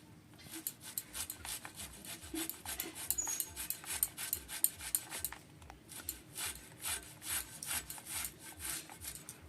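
Khesari (grass pea) greens being chopped in quick, rhythmic strokes, a steady run of rasping cuts up close with a short pause midway before the regular chopping resumes.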